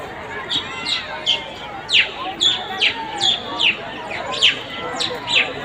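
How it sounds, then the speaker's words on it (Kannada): Pet lovebirds kept at a house chirp in a quick series of sharp, high tweets, about two per second, close and clear over a low background murmur. "the lovebirds."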